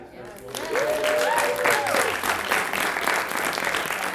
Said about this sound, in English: One more round of applause for the team that put this festival